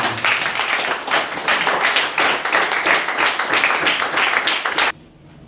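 A church congregation applauds in steady, dense clapping that fills the space for about five seconds, then cuts off abruptly into near silence.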